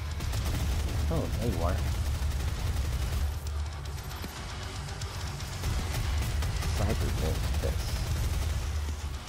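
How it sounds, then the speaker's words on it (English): Rapid minigun fire in the video game DOOM, a dense roaring burst of shots over a heavy low rumble, with game music and a player's voice speaking briefly between bursts. "Alright, minigun."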